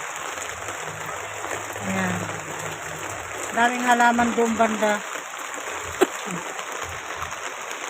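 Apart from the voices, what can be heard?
rain falling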